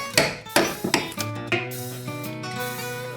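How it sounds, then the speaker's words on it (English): Metal tool digging into a cabinet nailing strip and prying out a nail: several sharp knocking and clanking hits in quick succession, then a ringing metallic tone that fades, close and fairly loud. "Now all I've got to do is dig down there and pull that out."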